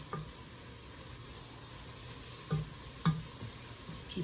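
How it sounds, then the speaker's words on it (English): Ingredients sizzle and fry in a pot for Tuscan white bean soup while a utensil stirs them, giving a quiet, continuous crackle with a few soft knocks against the pot. "you stir that around, and you're just gonna kind of keep it stirring because you don't want it to burn"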